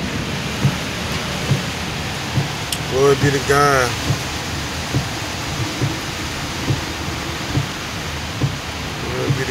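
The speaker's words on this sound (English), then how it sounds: "That rain ain't playing" Heavy rain pours down steadily in Liberty City, Miami, a dense continuous hiss with scattered drip ticks, while someone speaks briefly partway through.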